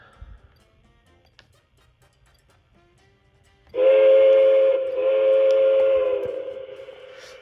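A K-Line model train locomotive sounds its electronic whistle after a near-silent start: a single clear, sustained chord-like blast of several seconds that dips briefly and then fades out.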